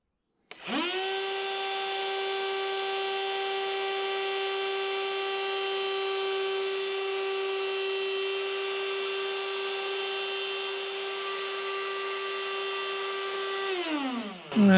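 A power tool with an indexing feature cuts a hexagonal wooden pen blank: a loud, steady high whine starts abruptly, holds evenly for about thirteen seconds, then winds down, close and with no talk.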